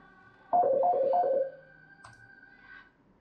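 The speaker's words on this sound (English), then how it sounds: "Ah, someone's ringing me up." A phone rings nearby with a short burst of repeated electronic chirps, then a faint beep follows, against an otherwise quiet room.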